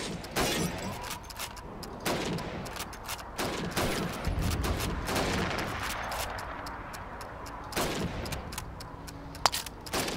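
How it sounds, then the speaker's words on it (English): Rifle gunfire at training targets in Call of Duty 2, with single shots spaced across a firing range, loud and close against a background of other weapons and game noise. "Let's just shoot as many."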